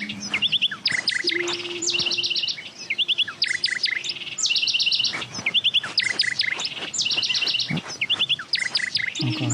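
Repeated bright bird chirps and tweets from the Sonar Islands audio game ring out in quick bursts and trills for the whole stretch, loud and close, with no talking.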